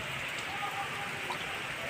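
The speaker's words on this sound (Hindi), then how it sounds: "शाम के समय देखिए तो इतना बारिश पड़ रहा है" Heavy evening rain pours steadily onto a rooftop, a constant, dense hiss with no clear individual drops, fairly close and unbroken throughout.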